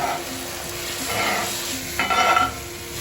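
Omelette eggs are scraped around a hot frying pan, a close sizzle running throughout with a few distinct scraping strokes, the last one louder and rougher.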